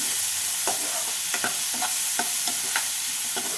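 Onions are frying in a pan while they are stirred, a constant loud sizzle close up with scraping stir strokes at an irregular rhythm over it.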